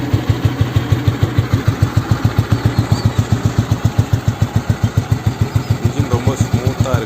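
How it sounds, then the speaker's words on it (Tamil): A restored 1988 Royal Enfield Bullet motorcycle engine thumps at a steady idle, its loud regular putter close and continuous for the whole stretch. "வண்டி எப்படி இருக்குதுன்னு சொல்லி உங்களுக்கு ஸ்டார்ட் பண்ணி காட்டுறேன் பாருங்கள்"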